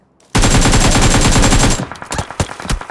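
Rapid automatic gunfire in the video game PUBG, a loud sustained burst of about a second and a half followed by a few scattered single shots and clatter.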